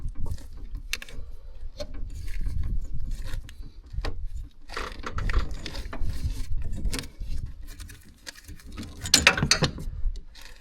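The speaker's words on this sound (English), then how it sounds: "We're going to put a new bolt on." A new bolt coated with Loctite is tightened in a workshop repair, heard as intermittent close ratcheting, clicking and rubbing metal sounds in short uneven bursts, without talk.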